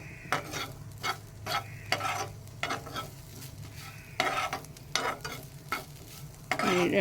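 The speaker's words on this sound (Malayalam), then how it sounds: "ഇതെല്ലാം കൂടെ ചേർത്ത് നന്നായിട്ടൊന്ന് വറുത്തെടുക്കണം." Spices for a stingray theeyal are dry-roasted in a pan without oil over high then medium flame and stirred in repeated scraping strokes with a light sizzle, fairly quiet and close, with no voices.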